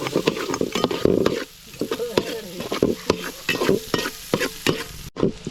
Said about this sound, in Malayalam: കരിവേപ്പില ഇട്ട് കൊടുത്തതിന് ശേഷം നമുക്ക് സവാള ഇട്ട് കൊടുക്കാം